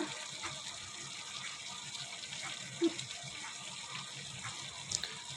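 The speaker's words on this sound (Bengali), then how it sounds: "এখন জল দিয়ে দিয়েছি" Water runs steadily into a pan of cauliflower and tomato curry, a continuous close gush with a couple of small clinks partway through.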